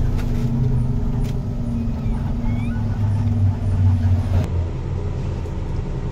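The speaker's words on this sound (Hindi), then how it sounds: "ये देखो भाई कैसे आ रही है ओवरलोड गाड़ियाँ" Overloaded twelve-wheel trucks pass on a rough road near a cement factory in Shillong, a steady heavy engine rumble with tyre roar that drops off abruptly near the end.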